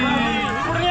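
A dense crowd of pilgrims at the Pandharpur Wari palkhi procession between Taradgaon and Phaltan, heard as a loud, continuous babble of many voices and shuffling movement close by.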